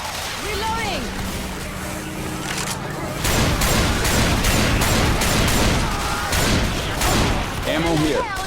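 Rapid bursts of automatic gunfire from Left 4 Dead 2 combat, a dense sustained volley in the second half that follows quieter game ambience with a faint tone, with brief electronic chirps near the end.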